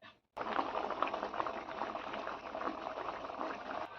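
An egg curry bubbles steadily in a pot, the eggs broken straight into the simmering gravy; a continuous close boiling burble runs throughout, preceded by a brief quiet gap at the start.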